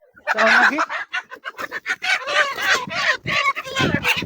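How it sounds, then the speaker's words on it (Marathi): Free-range native village chickens cluck and squawk up close in quick, irregular bursts, fairly loud and continuous throughout. "आता हे जे कोंबडी दिसत आहे हे किती दिवसाचे आहे"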